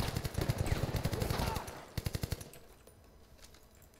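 Rapid automatic gunfire in Battlefield: Bad Company 2, firing in loud, dense bursts that break into a few distinct, evenly spaced shots before trailing off into quieter background.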